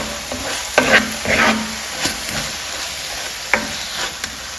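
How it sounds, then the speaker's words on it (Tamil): Ginger garlic paste sautés in a pan over a low flame, giving a soft continuous sizzle punctuated by a few scraping stirs and light knocks of a spoon, close by and without any talk. "இதை போட்டுட்டு 2 நிமிஷம் வந்து லோ ஃப்ளேம்ல நீங்க வதக்கி விடுங்க"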